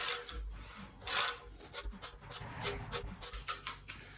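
Valve gear of a 1975 Triumph TR6 engine being turned over by hand, a series of soft mechanical clicks and ratcheting rubs at an uneven pace, quiet and close, with no talk.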